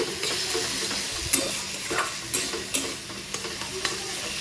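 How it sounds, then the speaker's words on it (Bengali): Ginger and mung lentils stirred in a frying pan over raised flame, with constant sizzling and sharp scraping knocks of the spatula at uneven intervals. "দেখো আদা দিয়ে একটু ফ্লেমটা বাড়িয়ে একটু নাড়াচাড়া করে নিতে হবে"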